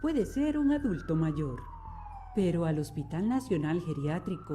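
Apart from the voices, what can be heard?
ambulance siren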